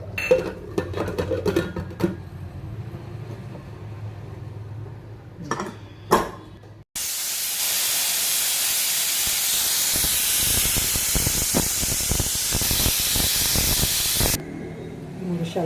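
A pressure cooker of rice on a stove vents a loud, steady rush of hissing steam for several seconds, preceded by quieter clinks and rattles and followed by a softer hiss as the release ends.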